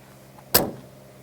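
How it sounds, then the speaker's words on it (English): A door on a 2006 Gulfstream Tourmaster 36 ft diesel motorhome shuts with a single sharp, close click-thunk, clean and brief, against a quiet interior background. "All the doors shut with a satisfying click"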